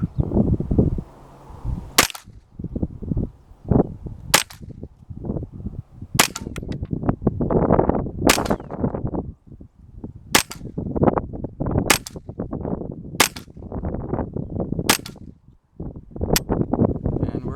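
Gunshots fired outdoors at a distant blue target, about ten sharp loud cracks spaced a couple of seconds apart, with a person talking softly between the shots.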